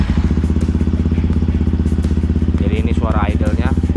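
A Yamaha WR155R motorcycle fitted with a Norifumi Rocket 4 aftermarket exhaust idles close by with a loud, fast, even thumping pulse, and someone talks over the engine near the end.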